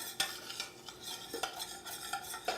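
A spoon stirs a cooked roux in a pot with soft, rhythmic scraping strokes, a few distinct swishes and clinks spaced across a couple of seconds, quiet and close, with no voices.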